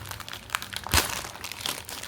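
A package holding old Jawaharlal Nehru coins is torn open, giving close crinkling and crumpling of the wrapping with one sharp tearing rip in the middle.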